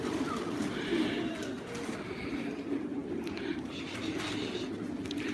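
Pigeons being rehomed in Osmaniye coo softly and continuously, low murmuring calls layered over one another against a quiet outdoor background.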